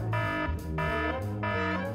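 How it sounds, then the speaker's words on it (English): A fire alarm going off in a waiting-room setting, a loud repeating electronic tone that pulses in regular on-off bursts over about two seconds, alone without talk. "Even the fire alarm couldn't take it anymore."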